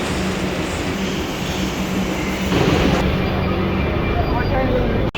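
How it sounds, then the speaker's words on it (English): A Kolkata metro train rumbles loudly and steadily with a rolling clatter and a rising rush midway, close by, with people talking underneath and a sharp cut at the end. "Train systems in India are actually really good."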